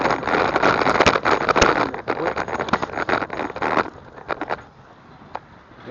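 Tires roll over gravel near a fire station and city hall in Martinez, California, producing a dense, crunchy crackle that stays loud for a few seconds, then thins to scattered pops as it fades.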